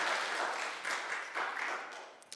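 A congregation at a Sunday worship service in San Jose applauds: a rather soft, fluctuating patter of many hands that gradually tapers off.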